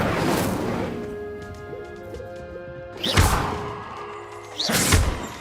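A fire spell cast in Hogwarts Legacy, heard as two sharp whooshing bursts a couple of seconds apart with a low ambient hum of the game world running underneath.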